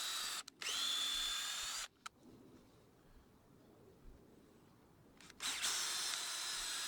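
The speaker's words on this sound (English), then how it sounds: "it does make it easier drilling a pilot hole first, through the first sleeper." Power drill boring a pilot hole through a wooden sleeper for hex bolts while building a raised pond, with a loud close whine that starts, stops and resumes, separated by a quieter stretch.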